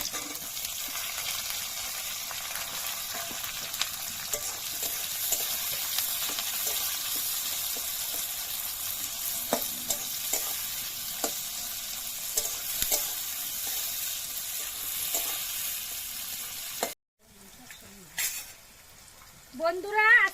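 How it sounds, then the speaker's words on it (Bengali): Chopped onions frying in oil with green chilli and bay leaf for a chicken curry, a steady close sizzle with scattered crackles, then a brief pause and a few clinks and stirring scrapes at the end. "আজকে আমি পেঁয়াজটাও খুব বেশি ভাজবো না, হালকা করে ভেজে নিয়েছি।"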